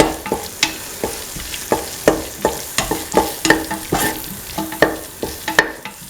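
A spatula knocks and scrapes steadily against a pan while winter melon, tomato, green peas and rice are sautéed with salt. The taps fall in a regular rhythm over a low sizzle, close and fairly loud.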